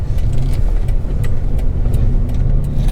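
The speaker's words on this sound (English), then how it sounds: "The truck did the corner really well." Toyota Tacoma X-Runner two-wheel-drive truck on Sumo springs taking a corner, a steady loud low engine and road drone from inside the cab with faint ticking and rattles over it, no talk.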